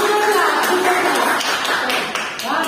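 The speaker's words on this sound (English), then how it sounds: "Can you clap?" Children clapping their hands in a classroom, a quick run of close, sharp claps with a teacher's voice over them.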